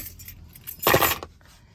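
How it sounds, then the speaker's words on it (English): A bunch of keys jangles briefly in a car's door-handle cubby pocket in a Honda Element, a short metallic clatter close to the listener in an otherwise quiet interior. "Keys fit in here."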